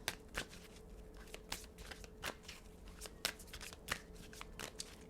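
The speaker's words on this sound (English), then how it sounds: "I'm going to shuffle and pull." Tarot cards shuffled by hand in a quiet room, a steady run of crisp riffling slaps and soft flutters with no talking.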